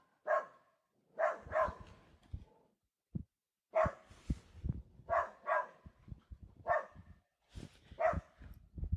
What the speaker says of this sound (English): That dog's going crazy.